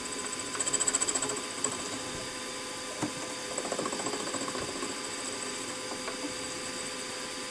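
Metal lathe cutter taking a light scratch cut on a small Stuart model engine part in a workshop, a quiet steady mechanical whir with faint ticking and scraping, no talk.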